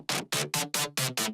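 A heavy, growling synth bass plays a steady run of about six punchy, gritty notes, loud and distorted, with no voices.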